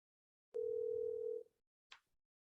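A telephone dial tone sounds as a call fails to connect, one steady pure tone held for about a second, clear and close, then a short faint click follows in otherwise quiet surroundings.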